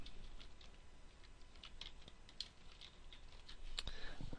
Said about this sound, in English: I'm going to go ahead and type sidebar heading in here